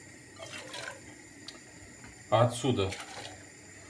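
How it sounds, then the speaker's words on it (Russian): Nearly boiling water is poured from one pot into another while cranberry drink is being made, giving a short, splashy pour of about half a second. A voice speaks around it. "отливаем в другую кастрюлю. Вот так вот нашу водичку."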